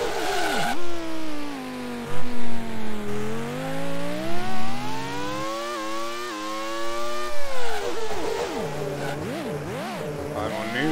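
A Grand Prix 2 race car engine whines loudly and continuously, its pitch climbing through the revs and dropping sharply at each gear change, with quicker throttle blips near the end.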